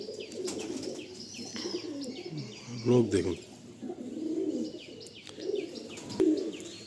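Pigeons for sale coo softly in the background, a low murmuring mixed with scattered chirps and rustling, partly under someone talking.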